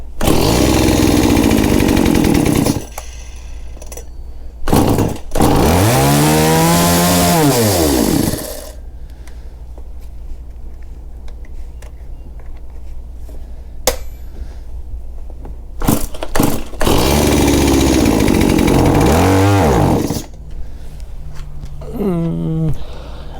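A Stihl MS180c chainsaw with a newly fitted engine runs loud and close, revving up and dropping back in several bursts, with rising and falling whines between stretches of rough idle.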